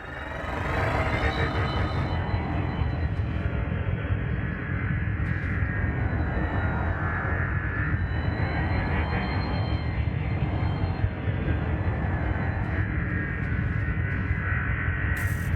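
A spaceship's engine thrust during docking in a space-flight video game, a loud, steady broadband roar that continues evenly throughout, with slow swells in its hiss and no pauses.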